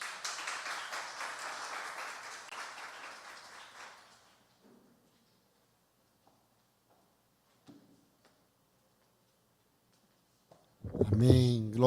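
A church congregation's applause rises as a dense wash of many hands clapping for about four seconds, then fades into near silence before a voice starts speaking.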